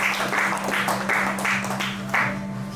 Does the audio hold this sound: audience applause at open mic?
yes